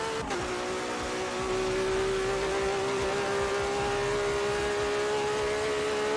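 A car in the racing game Forza Motorsport 7 accelerating toward top speed, a loud sustained engine whine holding a high steady pitch after a brief gear change at the start, no voices.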